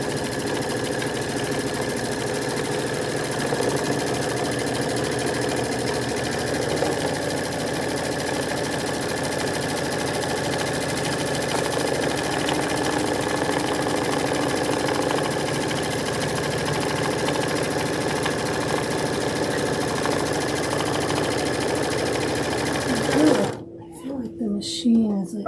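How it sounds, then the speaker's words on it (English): A loud sewing machine stitches a tack-down on a needlebook and pincushion, running in a steady, continuous whir for most of the stretch before stopping abruptly near the end, with a voice speaking during the run. "Machine is like super loud when it's going."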